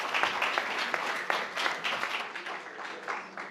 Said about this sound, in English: A round of applause for our first speaker.